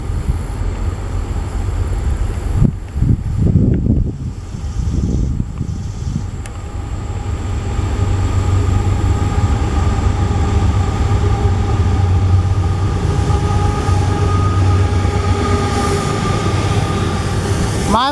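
A CSX freight train rolls across a railroad bridge in Chattanooga, a steady loud rumble of wheels and cars continuing throughout, with a few heavier clanks early on and faint squeal tones over the rolling drone.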